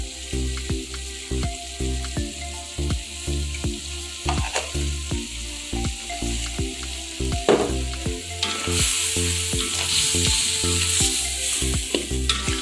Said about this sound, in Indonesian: Kita aduk-aduk sampai bumbu meresap dan tercampur rata.